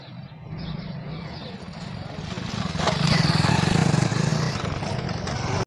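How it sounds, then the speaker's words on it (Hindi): A motorcycle engine runs steadily nearby on a street, a low continuous rumble that swells a little louder midway, with faint background clatter. "बाइक बज रही है, चालू रखते।"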